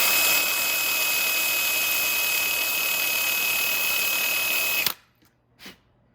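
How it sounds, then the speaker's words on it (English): A loud, steady power drill enlarging holes while fitting a carburetor on a 125cc motorcycle whines continuously for several seconds, then cuts off abruptly, followed by a brief faint rattle. "my drill right here, all I was put it on here"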